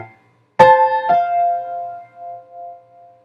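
A short underscore excerpt in the In mode: a single struck chord rings out, a second softer note follows, and the tones sustain and fade slowly in near silence.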